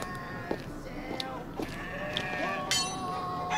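A sheep bleats a few times in the video game The Vale, amid a busy background of ambient game music and chatter, with short tonal calls rising over the mix.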